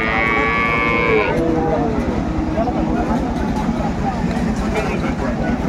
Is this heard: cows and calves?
yes